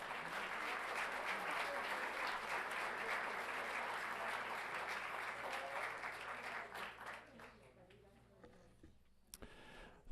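An audience at a school governing board meeting applauds for Lincoln Elementary School, a sustained round of clapping from a crowd that gradually thins and fades out near the end.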